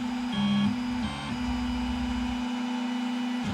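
Snapmaker 2.0 A150 3D printer running a print, a steady tonal motor hum with shifting pitched whines as the stepper motors change speed, loud and close with no talk.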